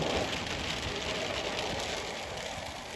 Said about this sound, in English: It's only light rain.